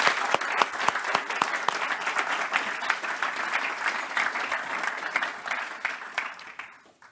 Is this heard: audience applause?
yes